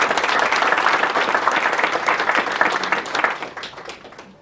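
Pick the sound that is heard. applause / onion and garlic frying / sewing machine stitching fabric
applause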